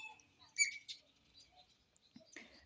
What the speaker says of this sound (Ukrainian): горобців слухаю, шпаків.